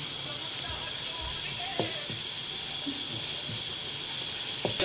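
Green chili, curry leaves and ginger-garlic paste sizzling in a hot pan, giving a steady, close hiss with a few soft clinks and low knocks underneath.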